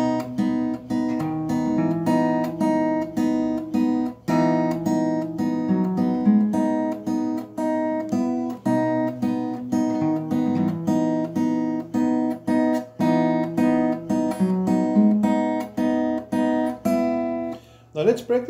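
Acoustic guitar plays flowing arpeggiated picking patterns adapted from a piano song, continuously, steady and close, with no voice.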